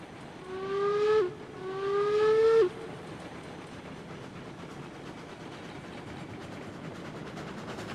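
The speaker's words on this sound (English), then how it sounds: "It's a fully loaded train." Steam whistle on a fully loaded freight train in the Railroads Online video game sounds two long blasts, loud and near, followed by a steady low rumble of the train rolling along.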